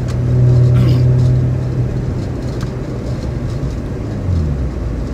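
A Nissan G35/350Z cruises on a freeway, its engine and road noise forming a loud, steady low rumble throughout, with a slight swell early on.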